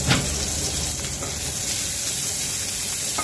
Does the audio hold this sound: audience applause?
no